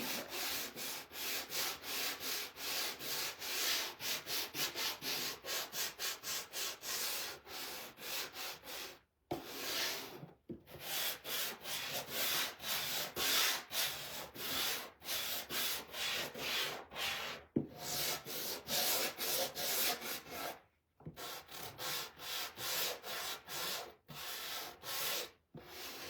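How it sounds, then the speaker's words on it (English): Sanding a wooden sign by hand, long steady back-and-forth rubbing strokes close up, continuous for many seconds with a few short pauses, no voices. "sand it."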